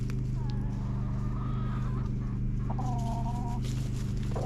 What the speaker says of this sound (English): We're gonna stop by and check on the chickens though.